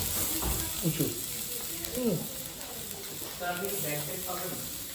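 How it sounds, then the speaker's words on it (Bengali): Garlic sizzling in hot oil in a pan during a cooking class, a steady bright hiss running beneath a speaking voice. "তেল দিয়ে আমরা কি করলাম, আমরা প্রচুর পরিমাণে গার্লিক দিলাম"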